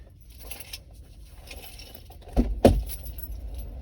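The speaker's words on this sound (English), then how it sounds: "Let me put my keys in here." Keys jangle as they are dropped into a bag, soft scattered clinks that build to two sharp metallic rattles near the end, close by.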